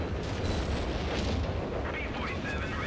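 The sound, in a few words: fragmentation bomb and artillery fire in Company of Heroes 3 video game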